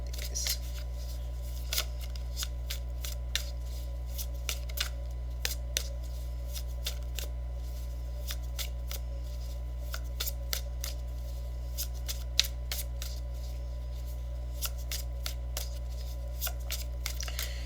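Tarot cards being shuffled and drawn in a quiet room, giving soft, crisp flicks and snaps that repeat irregularly throughout over a steady low hum.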